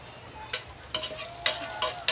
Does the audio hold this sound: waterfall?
no